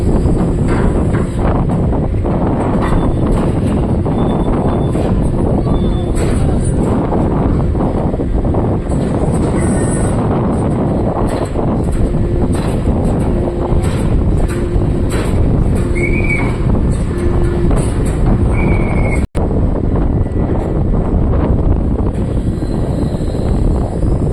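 Strong wind buffets the microphone at Dangay Roxas Port, a dense continuous roar filling the whole stretch, with faint tonal whistles and a sharp click near the end.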